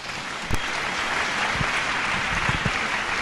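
A church congregation applauding during a deliverance sermon, with dense sustained clapping from many hands filling the room, a few sharper claps standing out, and no speech over it.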